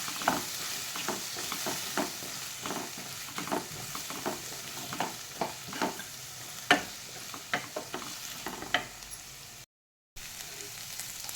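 Grated coconut stirred into kabuli chickpea usili in a pan: a quiet sizzle under a steady series of rhythmic scraping strokes, about two per second, with a brief silent gap near the end.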